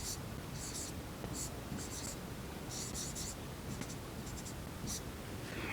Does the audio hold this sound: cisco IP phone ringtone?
no